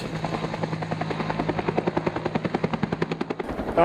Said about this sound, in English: The adrenaline goes as chopper starts in the morning